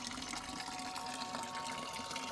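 River water running through a pipe and pouring into a tank makes a steady, soft gushing and splashing flow, continuous and fairly quiet, with no voices over it.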